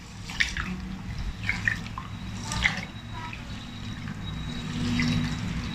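Rice and sorghum grains rinsed in water by hand, with intermittent splashes, drips and sloshing at close range.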